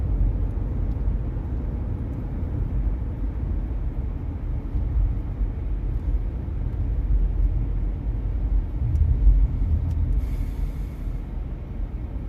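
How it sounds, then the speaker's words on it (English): A car drives through Loomis, and the cabin fills with a steady, loud low road rumble and engine drone that swells slightly near the end, with no voices over it. "Driving around Loomis right now"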